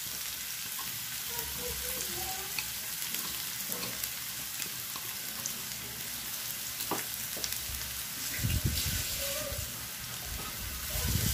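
Ingredients sizzle in hot oil in a pan while the tempering for a Kerala ripe mango pulissery curry is prepared: a continuous crackling fry at moderate level, broken by occasional soft stirring knocks and scrapes.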